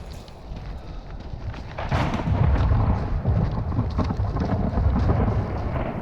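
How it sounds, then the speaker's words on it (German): Heavy thunder rolls through the Dolomites during a mountain bike crossing, a deep rumbling that builds loud midway and keeps grumbling over steady rain noise, with no talk. "Ja, es donnert heftig hier."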